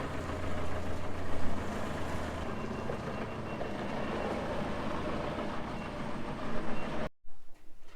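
A tractor reverses up to hitch onto a scrap muck spreader, its engine running as a loud, steady close-up rumble and mechanical clatter that cuts off abruptly near the end.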